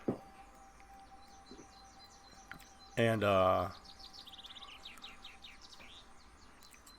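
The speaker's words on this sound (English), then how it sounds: "like you just really catch the sound of these birds" Small birds chirp outdoors among trees, faint scattered tweets throughout with a louder burst of calls partway in and a brief voice at the start.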